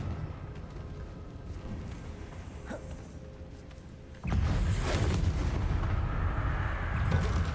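A Confringo explosive spell goes off in a Harry Potter video game: one sudden loud blast that settles into a sustained roaring, crackling burst over quieter ambient sound.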